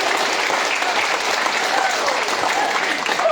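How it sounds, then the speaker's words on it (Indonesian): Steady, dense applause from a crowd at a gubernatorial campaign event, loud and continuous throughout with no pause. "Tepuk tangan yang meriah."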